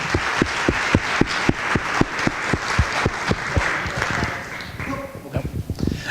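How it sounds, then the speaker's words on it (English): An audience gives a round of applause for sponsors at a property investment training event, with dense, rhythmic clapping that holds steady and then thins into scattered claps near the end, with some voices mixed in. "So just one big last final round of applause for the sponsors,"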